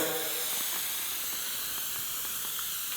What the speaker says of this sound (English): Spraying on the middle of the headliner first, all around the edges nice and good, and then put some on the fabric.